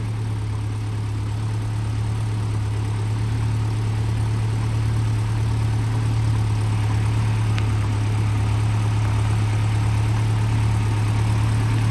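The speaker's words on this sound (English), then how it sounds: "We've just started it off from cold. They can be a bit lumpy from cold sometimes." A Land Rover Series petrol engine idles steadily just after a cold start, with a constant low hum and slightly lumpy running throughout, close and without talk.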